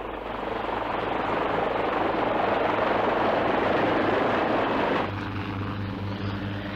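A helicopter in flight, loud and close, with a continuous dense rotor and engine roar that holds steady, then drops slightly in level near the end, with no talk.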